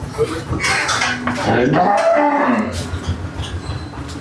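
A cow lets out a long, loud moo nearby amid general dairy-farm barn noise and faint clattering, with a voice talking in the background.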